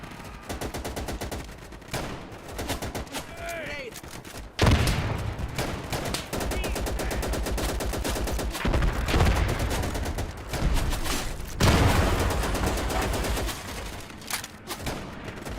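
Sustained bursts of rapid automatic gunfire and rifle shots in the World War II shooter Easy Red 2, loud and continuous with overlapping machine gun fire and sharp single cracks throughout.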